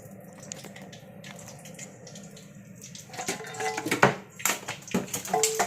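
Palm oil poured from a can into a cooking vessel, starting as a faint trickle and swelling into a louder, gurgling, splashing pour with a few sharp drips near the end.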